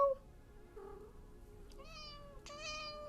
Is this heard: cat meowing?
yes